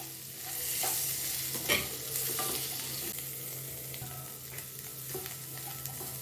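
Cauliflower roasting in a pan for butter masala, stirred continuously, gives a close, even sizzle with soft scraping strokes over a low steady hum.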